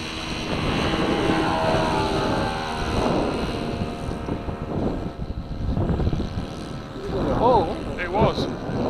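Engine of a Kadet LT40 model airplane during a takeoff run at a model aircraft club field, a steady buzzing drone under wind noise and excited talking nearby, with a rising whine near the end.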